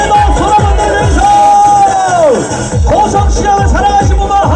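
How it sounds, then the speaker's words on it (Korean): A crowd at a Saturday market in Goseong claps and cheers loudly and close, a rapid rhythmic clapping joined by whoops, with a voice calling out over the noise. "박수 한번 주이소!"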